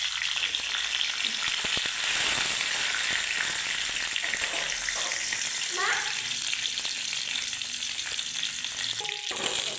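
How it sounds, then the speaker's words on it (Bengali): Cardamom, four or five cloves, cinnamon and bay leaf temper in hot oil in a kadai for dahi vada, giving a loud, continuous close-up sizzle with occasional stirring scrapes. "একটুখানি কড়াইয়ে আবার তেল দিয়ে নিয়েছি এবং দিচ্ছি তাতে এলাচ এবং 4-5টি লবঙ্গ, একটু দারুচিনি এবং তেজপাতা ফোড়ন দিলাম।"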